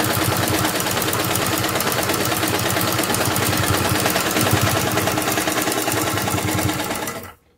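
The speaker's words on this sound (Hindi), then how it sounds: "इसी सिलाई के ऊपर हम एक और सिलाई लगाएंगे" Sewing machine running steadily in a rapid, continuous stitching rhythm while putting a second seam over an existing one on a sleeve, loud and close, then stopping abruptly at the end.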